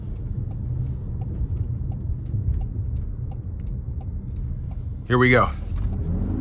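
A 2026 Toyota RAV4 XSE AWD accelerates onto an interstate, its steady road and engine hum heard from inside the cabin with faint regular ticking, and a brief spoken phrase near the end.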